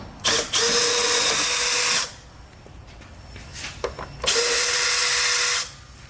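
A power drill spins off the plastic nuts on the underside tray of a 2020-2024 Toyota Camry, running in two sustained whirring bursts of about one and a half seconds each, close and loud, with brief clicks and handling noise between them.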